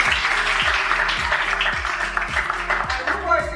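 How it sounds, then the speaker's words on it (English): School audience applauding a guest introduced during a school tour, a steady wash of clapping underneath a rhythmic music track with a thumping beat. "Can you all give him a round of applause?"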